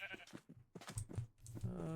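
Bleating sheep in Minecraft, a run of brief nasal baas overlapping one another, up close and clear, ending on a longer drawn-out call.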